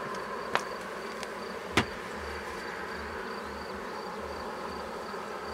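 Honeybees swarm a hive body after a light spray during varroa treatment, making a dense, steady buzz throughout, with two sharp knocks against the wood and no voices.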